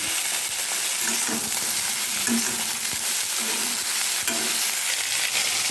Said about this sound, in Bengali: যে ঝোলে যে কপিটা দেবো সেই কপিটা আমি এখানে লাল করে একটু ভেজে নেব।